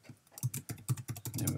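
Fast, uneven bursts of computer keyboard typing while entering programming code, close and crisp, with short pauses between clusters of keystrokes and no talking.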